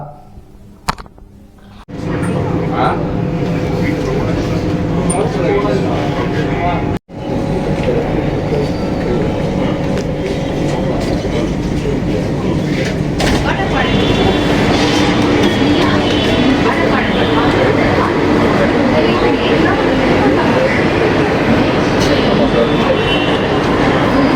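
A Chennai metro train runs with a steady loud rumble of wheels and a rising electric whine. A sharp brief dropout comes early, with faint voices underneath.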